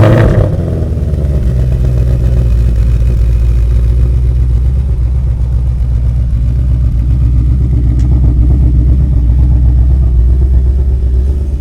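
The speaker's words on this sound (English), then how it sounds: "So we're going to check out the active exhaust." A supercharged 2019 Ford Mustang 5.0 with active exhaust set to normal mode gives a loud, steady low rumble, with a brief rev at the start settling into a continuous burbling idle close by.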